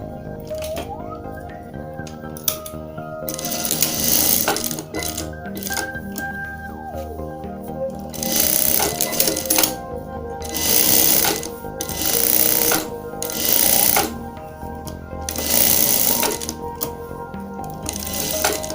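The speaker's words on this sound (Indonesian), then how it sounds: "kita lipat lalu kita jahit" A sewing machine stitches through folded denim cut from old jeans, its rapid mechanical whir coming in several bursts separated by short pauses, close and fairly loud.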